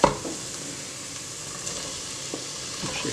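Cooked dried beans are tipped into sizzling tomato paste in a pan, with a soft plop at the start and then a steady, close frying sizzle.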